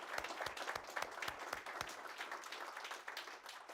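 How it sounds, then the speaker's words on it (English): A seated audience gives a sustained round of applause at the close of a data science talk on company directorship, steady dense clapping that carries through the whole stretch and eases slightly toward the end. "So I would like to ask you all to give a round of applause"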